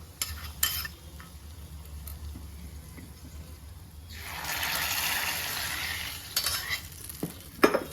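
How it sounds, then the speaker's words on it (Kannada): Fried garlic tempering hits a pot of curry with a burst of sizzling that swells for a couple of seconds, framed by stirring scrapes and a few utensil knocks, close and moderately loud. "ಇದನ್ನು ಆಫ್ ಮಾಡಿ ಈ ಸಾರಿಗೆ ಈ ಒಗ್ಗರಣೆನ ಹಾಕ್ಕೊಳ್ಬೇಕು"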